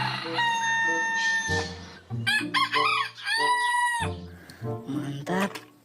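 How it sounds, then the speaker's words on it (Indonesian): A toy rooster lets out several loud electronic cock-a-doodle-doo crows in quick succession, each a rising and falling call with short pauses between them. "ternyata ini ayam jago"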